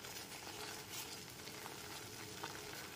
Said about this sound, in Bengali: খোয়াটা কিন্তু লো ফ্লেমে ক্রমাগত নেড়ে নেড়ে এরকম ঘন করে নিতে হবে।